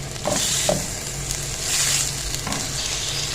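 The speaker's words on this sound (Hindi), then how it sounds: "अब इसमें हम डाल देंगे चिकन। और चिकन को भी हमने इतना भूनना है कि बस इसका कलर चेंज हो जाए।" Chicken pieces sizzling and frying in a pan with garlic and ginger, a steady close hiss with a few soft clinks of a utensil against the pan.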